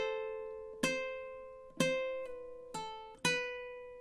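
A ukulele plays a short phrase of The Office theme, a few plucked chords and notes ringing out in a clear, unhurried rhythm, close and alone with nothing else heard.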